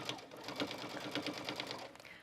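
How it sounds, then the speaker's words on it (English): Sewing machine stitching a shirt cuff seam, a steady rapid ticking chatter of the needle running continuously at low volume. "I'm just going to the sewing machine, and I'm going to stitch whatever your seam allowance is for your pattern"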